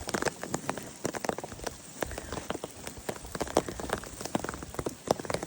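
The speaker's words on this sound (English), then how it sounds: "Well, it's raining. Just a drizzle." Light drizzle patters on a umbrella held by a walker on a trail between villages near Zubiri, a close, continuous crackle of small drops with no talking.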